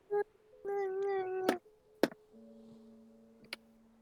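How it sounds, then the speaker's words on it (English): A cat in the game Webfishing gives one drawn-out meow, followed by sharp clicks and a steady electronic hum, all fairly faint. "You get one of those cats that like sounds like they're talking."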